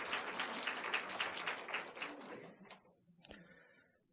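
Church congregation applauding a retired pastor, a crowd of clapping hands that fades out after a few seconds, followed by a couple of faint knocks.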